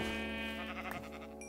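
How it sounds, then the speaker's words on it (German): A sheep bleats in the Minecraft video game, a single close, wavering cry lasting over a second, clear and alone. "da sind auf jeden Fall Schafe, so, die kralle ich mir jetzt"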